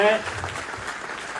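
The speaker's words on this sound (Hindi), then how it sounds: "जोरदार तालियों से आप है तो अबरार भाई के लिए।" An audience at a gathering at Hajj House in Aurangabad claps loudly for Abrar Bhai, a brief voice at the start giving way to a steady wash of applause.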